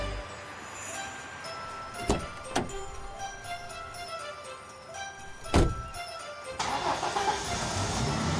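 A small, tightly packed car starts up with a couple of sharp thunks, then the engine settles and pulls away, the motor noise swelling toward the end.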